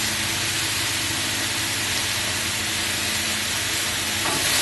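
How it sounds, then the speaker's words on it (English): Mushrooms for a stir fry sizzle steadily in a hot pan, a dense, loud hiss with no talk over it. "Add all the mushrooms."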